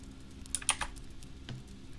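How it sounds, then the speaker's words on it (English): A few soft keystrokes on a computer keyboard, faint and close, scattered irregularly against a quiet background. "nice typing ASMR."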